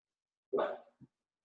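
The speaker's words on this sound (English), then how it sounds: "She's probably going to bark again." A dog gives a single fairly close bark followed by a short softer huff, in an otherwise quiet room.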